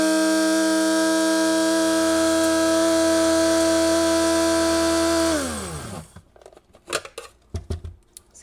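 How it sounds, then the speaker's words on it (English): An electric coffee grinder grinds dried dandelion and burdock roots with a loud, steady high whine that slows and winds down, followed by a few scattered rattles and taps of the grounds. "So remember this coffee grinder?"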